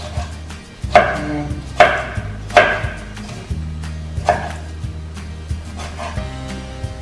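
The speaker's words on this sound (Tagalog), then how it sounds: "Maghiwa po tayo ng kamatis." Knife chopping tomatoes finely for a Filipino kinilaw dish: several sharp, evenly spaced cuts on a board up close, then softer taps, with a brief spoken word.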